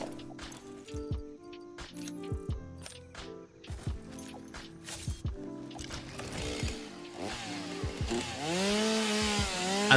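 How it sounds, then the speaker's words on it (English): Video game chainsaw from Satisfactory revving and cutting in choppy bursts, its harmonic engine whine rising and falling before a sustained, louder rasping stretch at the end. "Time for chainsaw excitement."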